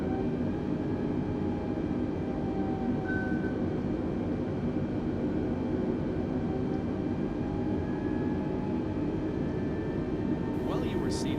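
Airliner in Microsoft Flight Simulator on Xbox Series X, a Nashville to Chicago flight, holds a steady loud jet engine drone with tonal whine throughout the takeoff roll, under a cabin announcement voice.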